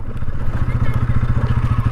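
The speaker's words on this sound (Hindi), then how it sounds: "बाइक झटके भी मार रही है" Motorcycle engine nearly out of fuel, running rough with a rapid low chugging pulse that stutters and jerks, close and loud with no other sound over it.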